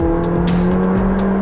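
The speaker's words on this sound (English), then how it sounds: "Back on the power, up a gear, hard on the brakes again." A 2019 McLaren 600LT sports car on a racing circuit gives a loud, sustained, close engine roar with a steady high drone, briefly lifting and changing pitch as it pulls through a gear.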